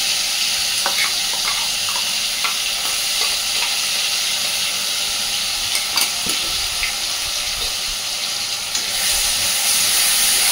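A wet paste of ground tomato, garlic and onion fries in oil in a pan, a loud continuous sizzle and hiss with occasional scrapes and clinks of stirring, no talk.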